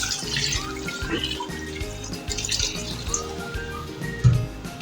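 Water pours steadily into a metal pot of camel meat for nihari, a continuous splashing rush with a faint clank near the end.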